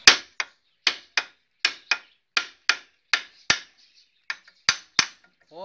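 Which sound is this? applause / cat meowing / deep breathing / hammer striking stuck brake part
hammer striking stuck brake part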